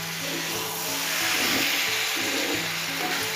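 Potatoes get stirred with spices in a hot pan while cooking a snail curry with onion greens, giving a steady sizzling fry with scraping spatula strokes and a faint hum underneath.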